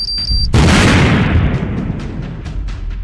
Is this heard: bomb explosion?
yes